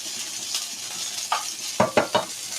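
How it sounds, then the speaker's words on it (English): Burgers and onions sizzling in a frying pan in a home kitchen, a soft steady hiss of frying broken by a few sharp scraping knocks of a utensil against the pan. "Can you hear the frying pan crackling?"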